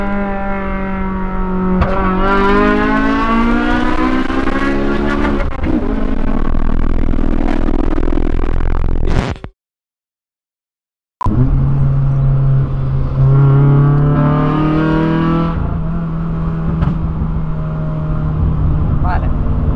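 A stage 5 Honda Civic Si accelerates hard with its engine revving up through the gears and tires spinning, loud and close, with a brief cut of silence partway through; someone talks over it.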